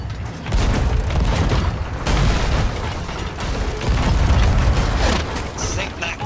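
Ship cannons firing in a Sea of Thieves naval battle, a dense barrage of heavy booms and crackling bursts rolling continuously, with voices talking underneath.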